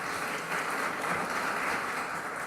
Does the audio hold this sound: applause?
yes